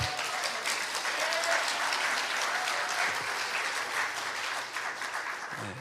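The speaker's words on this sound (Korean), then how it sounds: "생각지 못한 박수의 타이밍이라서" A congregation applauding during a Sunday afternoon church service, a continuous wash of moderate clapping from many hands, steady and fairly even, fading slightly at the end.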